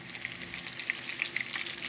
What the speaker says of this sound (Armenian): տեսեք ինչ լավ տապակվել է, թեկուզ մեծ կարտոֆիլներն են